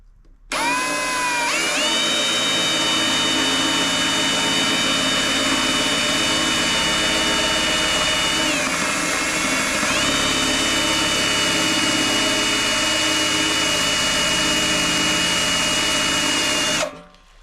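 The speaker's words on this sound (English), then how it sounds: "Use a hole saw to drill out the corners." A power drill turns a hole saw through the corners of a metal skid plate for a 2022 Ford Bronco, a loud sustained whine that spins up, dips briefly under load mid-cut, then winds down, with no talking.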